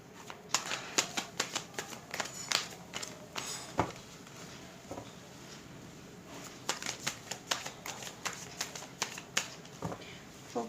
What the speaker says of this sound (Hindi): अब हम निकालते हैं आपकी प्रोफेशनल लाइफ के रिगार्डिंग आपके लिए कार्ड्स।